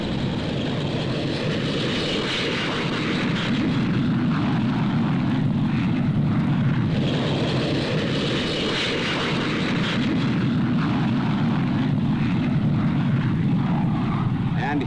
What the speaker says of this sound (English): And here it comes, the world's first four-jet delta bomber, the Avro 698.